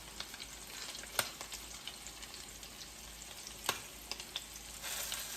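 Crab cakes fry and brown in a pan with a quiet, even sizzle. Two sharp taps stand out, and lighter crackles are scattered throughout.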